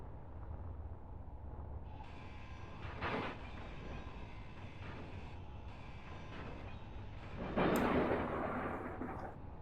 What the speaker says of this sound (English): Yeah, there's the thunder.